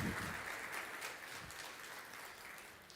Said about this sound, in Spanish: Así que vamos a darle el fuerte aplauso al señor Carlos Acuña.